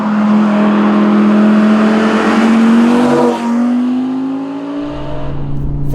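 A 2019 Audi R8 V10 Performance revs its V10 engine hard, a loud, close, steady howl climbing in pitch, then easing off with a drop in tone before settling into a lower idle-like rumble.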